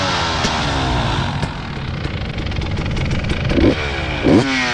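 A 2022 KTM 300 two-stroke dirt bike fitted with a full FMF exhaust, a TSP head and a tune, with a slightly dented pipe, idles with a close, steady crackling burble, punctuated by two short throttle blips near the end.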